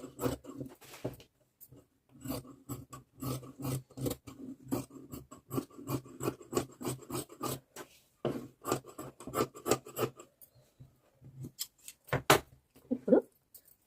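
Scissors cut blouse fabric in a long run of close, quiet snips, with a few brief pauses between cuts.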